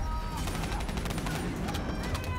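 Rapid bursts of gunfire from a firefight in the video game Call of Duty Black Ops 3, loud and continuous across the moment amid other battle noise.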